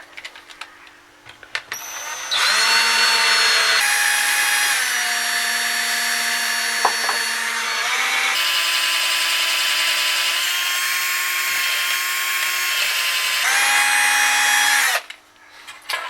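A power drill lubricated with WD-40 grinds steadily into metal while drilling a hole for tapping, a loud continuous whine with pitch shifts as the bit bites, starting after a brief pause and stopping near the end.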